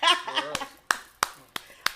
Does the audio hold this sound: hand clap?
yes